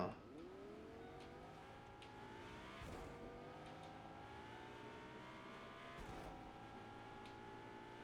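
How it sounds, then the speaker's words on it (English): A car in the video game Fortnite drives steadily, its engine tone climbing through gear changes with two abrupt shifts, quiet and continuous under the game's background sound, with no talking. "a car"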